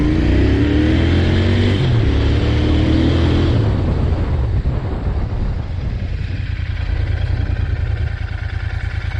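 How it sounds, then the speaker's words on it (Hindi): A Royal Enfield Interceptor 650 motorcycle engine revs up loudly and accelerates with rising pitch, then the engine note drops under braking and settles into a rough, low rumble. "और ब्रेकिंग में टेस्ट कर लेता हूँ इस बाइक की।"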